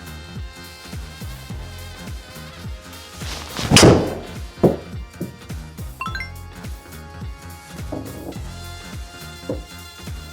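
A single sharp thwack of a golf driver with a titanium face and carbon back striking a ball rings out, followed by a few lighter knocks against faint background music.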